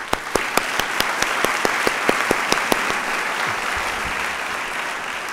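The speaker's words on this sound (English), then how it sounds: "So I think now they deserve a round of applause" Applause at a faculty and staff meeting, a roomful of steady clapping with a few sharp, loud individual claps standing out at regular intervals early on before settling into an even, sustained patter.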